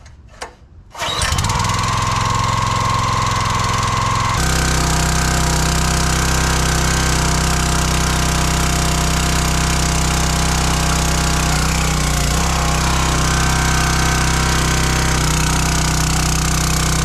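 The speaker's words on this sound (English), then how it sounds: "Engine's very loud at full throttle" A Countyline 25-ton log splitter engine roars at full throttle after a brief start-up, holding a loud, steady, close drone with slight dips in pitch throughout.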